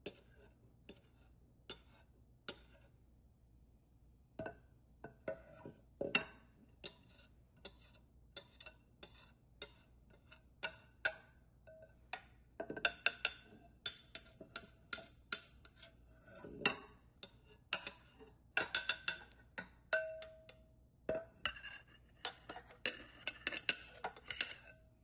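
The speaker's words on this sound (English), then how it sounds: "I'm going to mix this until everything's fully combined." A utensil scrapes and taps against a mixing bowl while sifted dry ingredients are folded into strawberry shortcake batter, giving irregular light clinks and ticks that grow busier, quiet and close with no talk.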